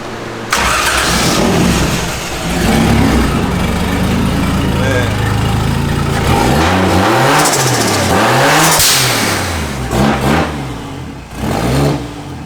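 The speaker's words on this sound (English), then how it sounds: "I hope you guys like the sound of that 1J because I know it hits me hard" A Toyota 1JZ VVTI engine swapped into a BMW E36 drift car revs repeatedly in loud, rising and falling bursts close by, with the wastegate open outside the car, while people talk over it.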